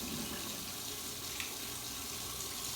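Ice-cold distilled water rinsing a filter during vacuum filtration in a chemistry lab, a steady, close hiss of running, splashing liquid sustained evenly throughout.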